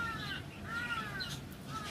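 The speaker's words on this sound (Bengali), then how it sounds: "সকাল থেকে আজকে দাঁড় কাকটা আ এমন শুরু করে ডাকছে" A crow caws hoarsely in three rough, drawn-out calls spaced about half a second apart, moderately close, set against a faint background murmur.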